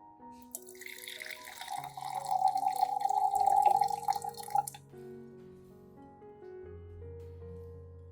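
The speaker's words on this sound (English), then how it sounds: "Then pour into a spray bottle." Cooled potato water is poured into a spray bottle, a close trickle and splash of liquid running for a few seconds before fading into quiet ringing tones.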